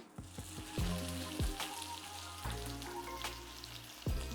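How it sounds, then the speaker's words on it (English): Ribeye steak, already cooked sous vide, sears in butter in a hot pan with a steady close sizzle, punctuated by several sharp crackles and pops as the meat is laid down and turned. "hear that sizzle."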